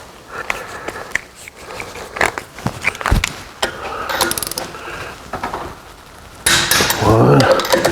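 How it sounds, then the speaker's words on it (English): Torque wrench tightening bolts to a final 80 pounds during a Camso UTV 4S1 track install on a Suzuki Samurai, with repeated close metallic ratcheting clicks and clanks, louder toward the end, amid workshop handling noise. "Then I'm going to do the final torque to 80."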